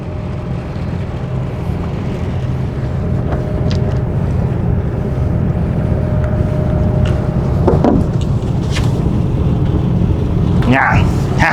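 Steady loud low rumble of a boat engine mixed with wind buffeting the microphone, with brief voices near the end.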